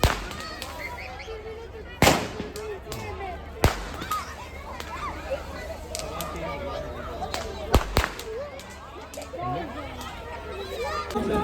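Diwali firecrackers crack and pop in a parking lot in Italy, several sharp bangs spaced out over the clip, with children and adults chattering throughout.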